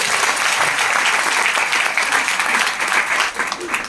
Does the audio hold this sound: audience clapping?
yes